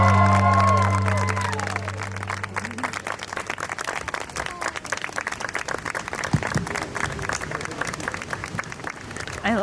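Wedding guests cheer and clap right after the couple is pronounced husband and wife, a burst of applause and whoops that starts loud with some voices and music fading, then settles into steady clapping for several seconds.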